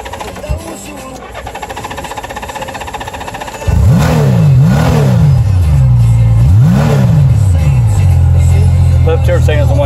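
A 1995 Honda Goldwing SE Roadsmith trike engine starts up close and loud, revving in several rising and falling surges before settling into a steady idle, with someone talking over it.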